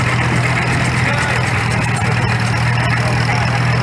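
A 1952 Ford Model 8N 20-horsepower vintage tractor runs in an old engine show parade. Its engine drones steadily and fairly close, with a voice faintly audible beneath it.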